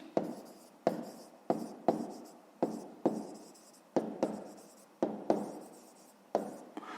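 Pen writing on paper during a fifth-grade math exercise, a quiet close sequence of short scratchy strokes, about a dozen bursts each fading out, with no talk.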